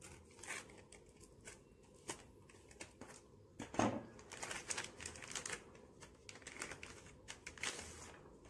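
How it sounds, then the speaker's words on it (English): Plastic packaging of a Samsung Galaxy Note 10 Lite phone case being cut open, with irregular crinkling, snipping and rustling bursts close by, one louder crackle midway, over a faint background hiss. "Let's cut through the cover."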